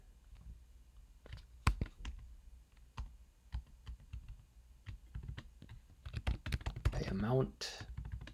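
Someone types code on a computer keyboard: close, irregular key clicks that speed into a dense burst near the end, while a person talks throughout.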